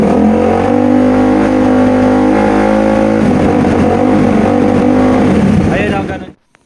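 KTM Duke 390 motorcycle engine with a hesitation misfire, revved loud and close, a sustained buzzing drone that shifts and stutters partway through before cutting off abruptly near the end, with a voice speaking over it.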